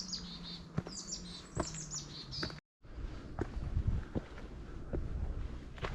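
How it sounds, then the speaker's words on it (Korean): Small mountain birds chirp and twitter along an old stone fortress wall on a hiking trail, light tweets over wind noise and soft footsteps, with a brief gap of silence midway. "그 위에 들리는 짹짹 지저귀는 산새소리가 귀엽습니다."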